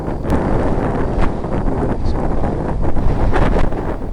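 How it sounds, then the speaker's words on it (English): High winds roar across the microphone during a hog hunt in North Texas, a loud, continuous blustery rumble with gusting surges and no break. "we're actually having trouble communicating with one another because of the wind noise"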